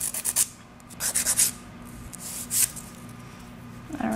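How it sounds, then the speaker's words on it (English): An acrylic nail being filed against a held-straight nail file, soft scratchy rubbing strokes in short clustered bursts, close and fairly quiet, with no talk. "I will just hold my file straight and I will essentially rub my hand that I am filing onto the file"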